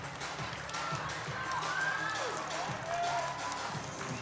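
A crowd at a powerlifting championship cheers and shouts in a steady noisy roar, with a few whoops rising above it, heard over commentators talking.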